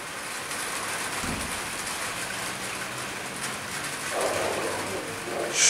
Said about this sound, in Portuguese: Até que enfim está chovendo na cidade de Conselheiro Lafaiete.